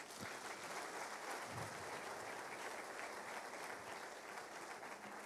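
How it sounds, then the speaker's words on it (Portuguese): Church congregation applauding steadily in a large hall, a dense, even wash of many hands sustained throughout, fairly distant and uniform. "Vamos aplaudir eles"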